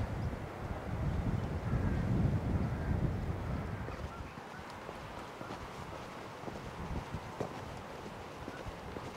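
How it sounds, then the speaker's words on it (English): Strong wind buffets the microphone on a Cornish coastal footpath, a loud low rumble that is heaviest in the first four seconds, then eases into steadier gusty noise. "it is quite windy today"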